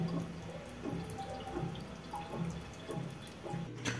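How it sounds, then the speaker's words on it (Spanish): Water drains from a toilet tank with the float raised by hand, a faint steady trickle with soft drips and gurgles running continuously at close range, with no one speaking. "se escucha claramente cómo se está drenando el agua"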